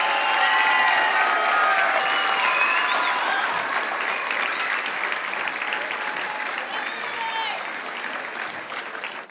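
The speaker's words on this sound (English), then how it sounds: "Let's give one more big round of applause to all of our student award recipients." A large audience at a middle school awards ceremony applauds steadily and loudly, a dense wash of clapping that eases off slightly toward the end.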